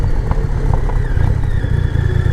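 A 2300cc Triumph Rocket III Classic Tour motorcycle runs on a test ride, its engine a loud, steady low rumble with road and wind noise and no talk.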